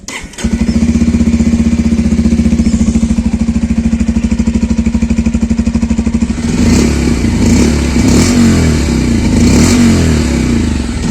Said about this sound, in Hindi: बाइक के साइलेंसर की साउंड।